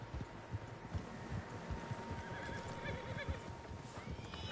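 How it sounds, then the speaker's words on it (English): A group of horses in the video game Red Dead Redemption 2, faint whinnies and neighs over a low rumble of hoofbeats that keeps going through the whole stretch. "Horses, quite a few of them."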